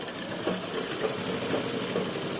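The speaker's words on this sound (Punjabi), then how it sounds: "ਆਪਾਂ ਨੇ ਕਾਫੀ ਦੋਨੇ ਪਾਸੇ ਸਲਾਈ ਲਾ ਲਈ ਹੈ ਜੀ" A sewing machine stitches along the sides of a cuffed sleeve, its needle chattering in a rapid, steady mechanical rhythm throughout at close range, with no talking.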